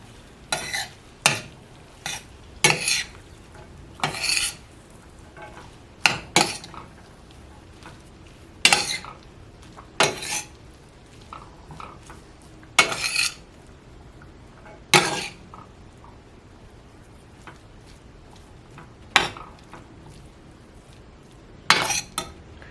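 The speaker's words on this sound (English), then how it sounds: "I'm gonna add it to the pan with the sardines. And I'm gonna stir the sauce in." A pan of sardine pasta sauce stirred with a utensil, with sharp scraping and clinking strokes recurring at uneven intervals over a faint background sizzle, close and without talking.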